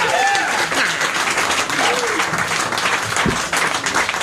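A live audience applauds the evening's performers with loud, sustained clapping, while cheers and voices rise over it.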